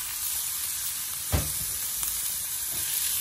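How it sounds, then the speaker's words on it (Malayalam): Sliced onion dropped into hot oil for a broccoli egg stir fry: a continuous hissing sizzle with one brief thump as the onion lands, close and without speech. "എണ്ണ എന്നെ ചൂടായിട്ടുണ്ട്, നമുക്ക് സവാള ചേർക്കാം"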